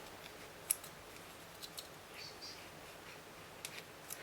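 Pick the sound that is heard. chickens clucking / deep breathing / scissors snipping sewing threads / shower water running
scissors snipping sewing threads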